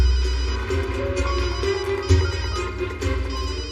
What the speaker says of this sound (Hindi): देखिए तो बज रही है